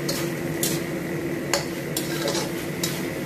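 Tofu and garlic chives being stir-fried in a pan with oyster sauce, a soft steady sizzle broken by a few sharp clinks and scrapes of a utensil against the pan, close and without talk.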